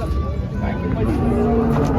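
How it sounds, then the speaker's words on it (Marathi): Cows at a Chalisgaon cattle market moo in a loud, sustained low call that fills the whole moment, with steady crowd and market noise around them. "आता इकडे गाय आहे मित्रांनो बघा"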